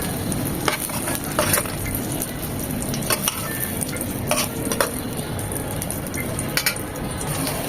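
Eggplant pieces fry in hot oil with a steady close sizzle, broken by the scrape and clink of a spatula stirring in the pan.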